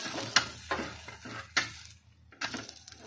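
A dhapata flatbread sautés in a little oil in a pan, with an intermittent soft sizzle and sharp clinks of a spatula against the pan. There is a brief quiet gap before the sizzle resumes.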